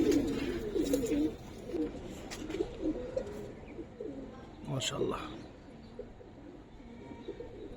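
Pigeons coo in a loft of Giribaz coloring pigeons, soft repeated throaty coos near and far, with someone speaking briefly over them.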